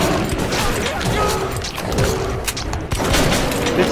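Shotgun blasts in the first-person shooter Metro 2033 Redux, loud and dense amid a chaotic wash of in-game combat noise and impacts running throughout.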